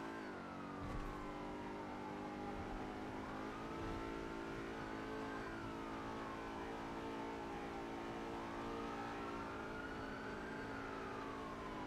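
A car engine in the video game GTA revs steadily and loudly throughout, its pitch rising and falling in repeated sweeps through gear changes.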